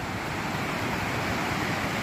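Waterfalls near Hawk Mountain Shelter on the Appalachian Trail, heard as a steady, dense roar of rushing water, loud and unbroken throughout with no other sounds over it.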